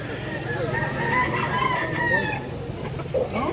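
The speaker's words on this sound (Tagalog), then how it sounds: "Gandang mga manok mga idol" Gamefowl and a rooster on a Filipino breeding farm, with a rooster crowing and hens clucking at moderate distance while someone talks over them.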